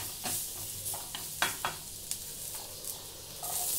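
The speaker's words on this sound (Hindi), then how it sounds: "थोड़ा तेज आंच पे हम इसको सेक लेंगे," Chopped vegetables with beans and garlic frying on a fairly high flame in a pan for ragi soup: soft sizzling under repeated sharp scraping stir strokes, moderately faint and close, no voices.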